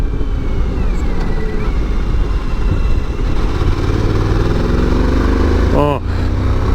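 A Suzuki V-Strom 1000 motorcycle engine drones steadily on a test ride under constant wind rush, with a brief rising whine near the end.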